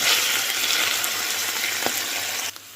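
Wild mushrooms fry in hot oil in a pan, giving off a steady, bright sizzling hiss close by that drops away sharply near the end.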